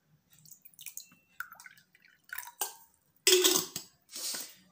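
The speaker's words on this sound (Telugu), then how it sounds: "నీరు పోయండి" Water poured into a glass or bowl at night, heard as a few short splashing, trickling bursts close up, the strongest near the end, with quiet gaps between and no talk.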